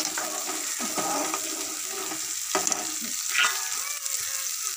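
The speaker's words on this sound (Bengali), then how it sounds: "বেগুনটা একটু নাড়ি।" Roasted eggplant is stirred into cooked lentils in a pot, with a soft continuous sizzle and scraping spoon strokes, a few sharper clinks, and no talking.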